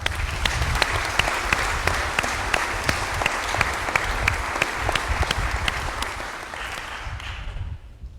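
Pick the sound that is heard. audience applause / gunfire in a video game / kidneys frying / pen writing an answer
audience applause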